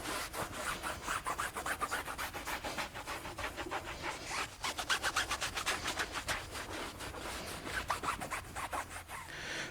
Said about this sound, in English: we just finished buffing down our tires